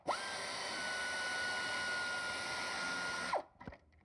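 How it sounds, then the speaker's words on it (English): A pneumatic air ratchet runs in one steady, loud, high-pitched whine for over three seconds while removing an alternator bolt during serpentine belt work, then cuts off with a falling tail and a few faint clunks. "You saw the air ratchet going into the fender."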